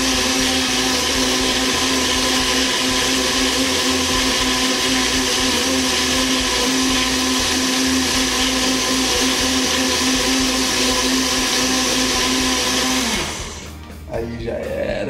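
A loud blender mixes a protein milkshake, whirring steadily for about thirteen seconds, then cuts out abruptly, leaving a short clatter and rattle.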